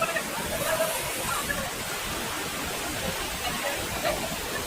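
A waterfall in Jharkhand gives a steady, broad rushing roar of falling water. It sounds close and constant, with faint voices mixed into the wash.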